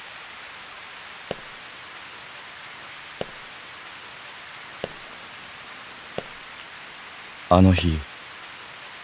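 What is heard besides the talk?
falling rain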